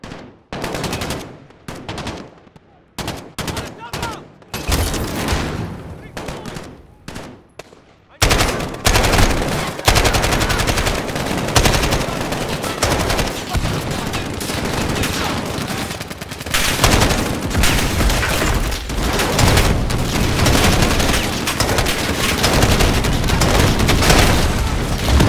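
Sustained automatic gunfire and bursts fill a Call of Duty: Modern Warfare (2019) battle at an airfield hangar and tarmac, with sparse sharp shots at first, then dense, loud, continuous fire and booms.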